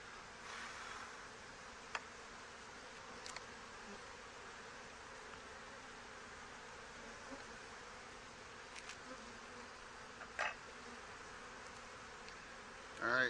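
Honey bees hum steadily inside an opened hive's upper brood box, a constant low buzz with a few brief clicks and knocks from handling near the end.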